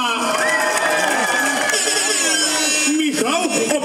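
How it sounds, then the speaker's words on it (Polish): Children cheering and shouting at a rap concert in Białystok, a loud continuous crowd roar with high excited voices, mixed with amplified sound from the stage. "Dzieci, zróbcie troszkę hałasu. Brawa dla Michała!"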